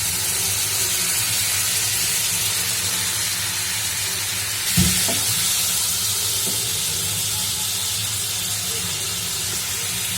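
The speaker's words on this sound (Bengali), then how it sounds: "এখন এইটা দিয়ে রাখবো, মাছটি আগে কষাই নিই।" Fresh pangas fish frying in hot oil in a pan, a steady broadband sizzle and hiss running throughout at constant loudness, with a brief clatter midway.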